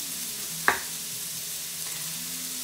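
Vegetables for a vegan garden bowl fry in a pan with a steady, even sizzle, broken once by a single sharp click near the start.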